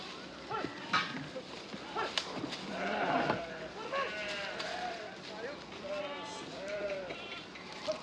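Sheep bleat repeatedly, several animals calling close by over a busy background, with people talking among them.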